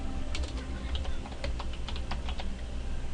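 Rapid bursts of keystrokes on a computer keyboard while entering a serial interface configuration command, with irregular clicks spread across the clip and no talking.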